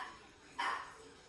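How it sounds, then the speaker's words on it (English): One short, faint dog bark sounds from somewhere off at a distance, a single yip over a quiet room background. "I hear some woof woof"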